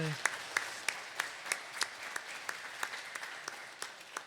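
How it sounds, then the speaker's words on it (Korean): A congregation at a Catholic Mass claps in warm, sustained welcoming applause, with scattered sharper claps standing out over the steady patter. "환영의 박수 주세요"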